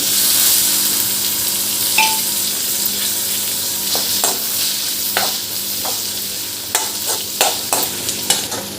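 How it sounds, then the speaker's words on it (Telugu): Ivy gourds fry in a little oil in a pan, giving a steady close sizzle broken by sharp clicks and scrapes from stirring. "అదే ప్యాన్లో కొంచెం ఆయిల్ వేసుకుని దొండకాయలు వేయించుకోవాలి"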